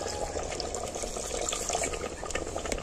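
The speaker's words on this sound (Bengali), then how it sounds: "আমি জল দিয়ে দিচ্ছি এর মধ্যে।" Water is poured into a pot of mutton, making a continuous splashing, gurgling rush that stays fairly even throughout at moderate loudness.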